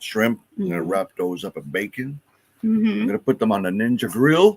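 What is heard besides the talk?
No everyday noises stand out.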